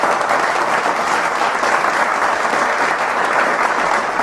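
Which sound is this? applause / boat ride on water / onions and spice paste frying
applause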